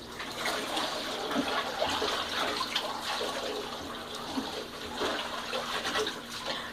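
Water splashing and trickling while rinsing soap off a dog during a home bath, an uneven running stream with small splashes and drips, moderately close, no voices.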